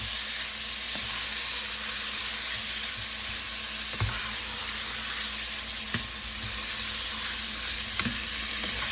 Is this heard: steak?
yes